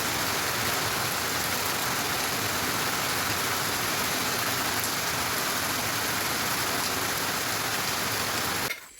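Heavy rain pours steadily and loudly at a home during the Deepavali festival, a dense unbroken hiss that stops abruptly at the very end.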